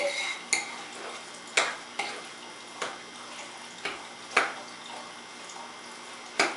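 Salmon, onions and mashed potatoes being mixed for a pie filling, with a run of soft, squelchy stirring strokes and periodic scrapes of the utensil against the bowl, close and fairly quiet.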